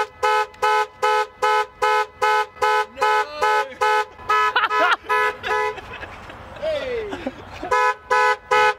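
A car alarm blares at a service station during a fuel stop, sounding a loud, steady run of repeated honking pulses that break off midway while people talk and exclaim nearby, then resume at the end.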